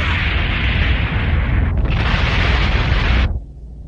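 An asteroid explodes in a cartoon, a loud, roaring blast of broadband rumble and hiss that surges, briefly dips, then surges again before cutting off abruptly into a low residual rumble.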